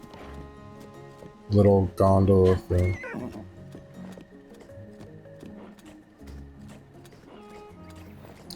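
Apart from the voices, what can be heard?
horse hooves clip-clop in a video game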